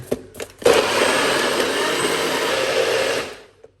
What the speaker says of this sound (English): we're gonna simple blend it again